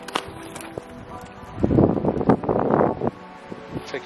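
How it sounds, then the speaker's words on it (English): Wind buffets the microphone on a high Colorado mountain ridge during an elk and deer shed hunt, a steady broadband rush that swells into louder gusts midway before easing back, with no talk in the clip. "It's windy up here today, hopefully you guys can hear me."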